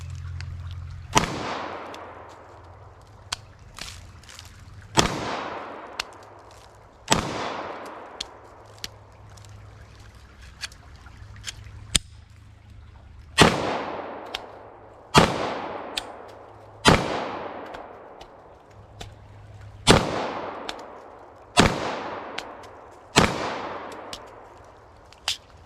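An Arex Delta Gen 2 pistol fires after being fully submerged in mud, sounding a dozen sharp, loud outdoor shots at irregular intervals with reverberant tails, interspersed with fainter clicks and handling noises.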